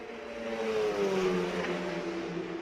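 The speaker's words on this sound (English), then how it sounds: "here they are over 150 miles an hour now as they come back down the front straightaway in front of us" An autonomous race car with a four-cylinder racing engine speeds down the front straightaway at over 150 mph at Indianapolis Motor Speedway, its loud whine sweeping in pitch as it passes close by, with no talking.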